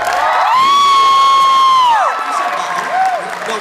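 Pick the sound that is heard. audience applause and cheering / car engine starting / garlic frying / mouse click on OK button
audience applause and cheering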